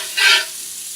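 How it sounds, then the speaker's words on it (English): Food sears in a hot frying pan, giving a brief burst of sizzling and stirring up close that settles into a quieter hiss. "So we're just gonna let that sear on that side."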